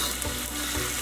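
Minced garlic hitting hot oil in a red-hot wok, a steady, dense crackling sizzle that fills the whole brief moment at close range.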